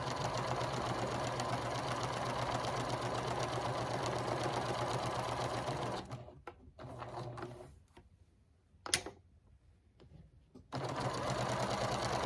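A sewing machine stitching around the edge of a fabric mug rug, a close steady mechanical whir that stops midway for quiet handling and rustling, then resumes.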